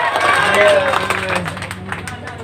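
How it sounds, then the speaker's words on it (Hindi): An audience at a mushaira claps and cheers, a burst of applause swelling then thinning over crowd murmur, with a voice speaking over it. "आप तालियों की गूंज में अपने शायर को इजाजत दीजिए।"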